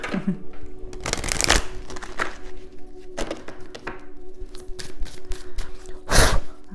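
A deck of oracle cards being shuffled by hand in several riffling bursts and soft slaps, close and fairly loud, with short pauses between them.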